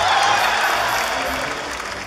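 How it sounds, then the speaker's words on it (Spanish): A studio audience at a comedic television contest show claps loudly for a model for about two seconds, a dense burst of applause with faint crowd noise. "¡Aplausos para esa modelo!"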